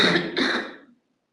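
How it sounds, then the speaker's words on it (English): A single harsh cough or throat-clear from someone with a cold, close to the microphone, bursting out and fading away within a second, with no talking. "so I'm going to cough and I'll be right back."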